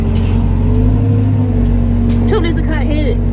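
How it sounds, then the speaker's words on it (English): A tractor engine runs steadily with a low, even drone close by, while a person talks over it near the end. "so the tractor's working now"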